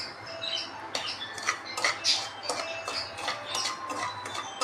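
A spatula stirs semolina as it roasts dry in a pan for upma, giving sharp metallic clinks and scrapes at an irregular, close-up rhythm with no talking.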